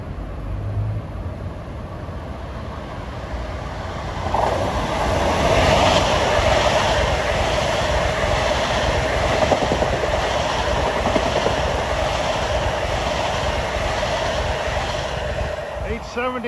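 Two eastbound M9 commuter trains on the Long Island Rail Road rolling through Forest Hills station at rush hour, a loud sustained rumble and rail roar building in and holding steady close by.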